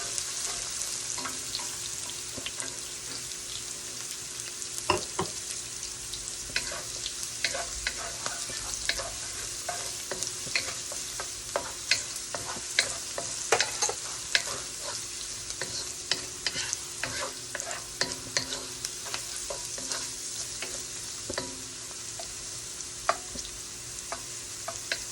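Green beans fry in a pan for a chop suey, with a constant sizzle and frequent sharp spatula scrapes and taps from stirring throughout.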